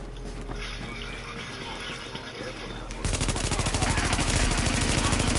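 LMG machine gun fire in the video game The Division bursts in at mid-clip as rapid, loud continuous rattling. Quieter ambient game sound comes before it.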